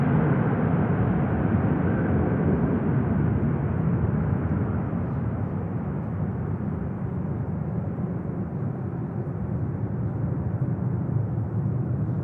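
A jet airliner climbing out after takeoff at Manchester Airport gives off a steady, broad engine roar at a distance that holds evenly for the whole stretch.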